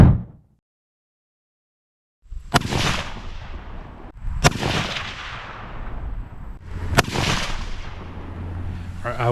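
After a moment of silence, three loud, close rifle shots ring out at a target about two seconds apart, each sharp crack trailing off in a long rolling echo.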